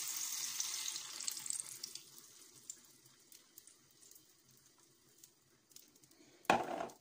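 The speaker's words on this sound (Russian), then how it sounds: "заливаем взбитыми яйцами с молоком" Beaten eggs mixed with milk poured into a frying pan over a lowered gas flame for an omelette: a soft hiss and watery sizzle that settles quieter, then one brief louder clatter near the end.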